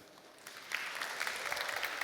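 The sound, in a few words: audience applause after conference talk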